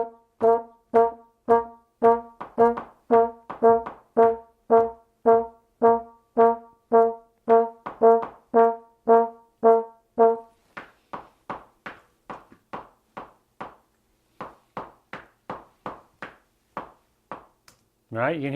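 Faster metronome click track for jazz rhythm practice, with rapid, evenly spaced pitched clicks that thin out to drier ticks partway through, playing alone and clearly.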